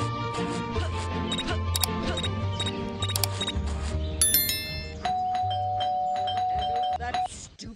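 A Scary Teacher 3D bell rings in repeated bright, chiming strokes over game music, followed by a sustained high electronic ding toward the end.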